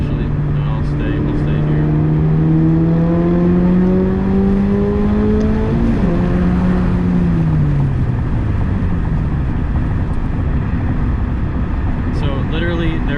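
A Subaru BRZ with an aftermarket exhaust pulls at full throttle, its engine note rising steadily through the revs before dropping back, a smooth and fairly subdued roar with a voice talking over it.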